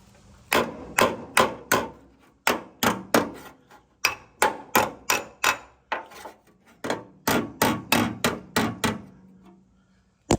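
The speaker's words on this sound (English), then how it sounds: "We need a hammer." Sharp hammer blows on metal ring out in quick bursts of several strikes, with short pauses between groups, close and crisp against a quiet background.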